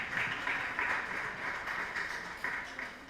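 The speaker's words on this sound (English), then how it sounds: "Can we clap for them?" An audience at an International Women's Day event claps together in a steady, even wash of applause, moderately distant and fairly soft, with no talking over it.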